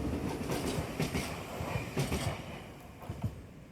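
Trams and trains passing in Osaka, a loud continuous rumble with rhythmic clickety-clack of wheels over rail joints, close and steady throughout.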